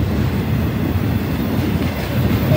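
A long Norfolk Southern intermodal freight train with two Union Pacific locomotives running mid-train rolls past at Camp Hill, Pennsylvania, giving a steady, close rumble of wheels and cars with faint clickety-clack and no break in the noise.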